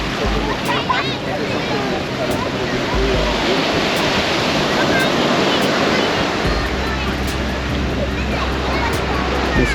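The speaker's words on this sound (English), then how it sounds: "It's quite windy as well" Steady wind gusts and rumble buffet the microphone over a broad wash of surf-like noise at Nai Harn Beach, continuous and fairly loud throughout.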